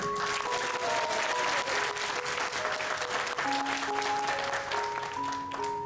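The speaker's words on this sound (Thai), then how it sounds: "ปรบมือให้ตัวเอง" Audience applause at a Thai gathering for elderly people, steady and dense throughout, with a sustained musical melody playing over it.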